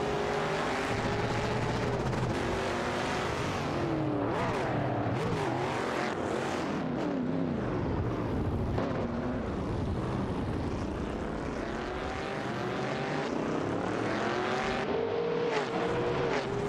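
Race cars roar continuously in a video game, engines droning and shifting pitch as several cars pass and jostle through a tight pack, steady and loud throughout with no pauses.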